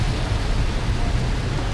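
Heavy thunderstorm rain pours steadily in a dense, loud hiss with no break and no voices.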